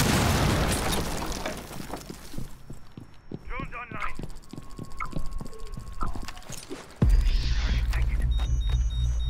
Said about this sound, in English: Oh, that's a nade!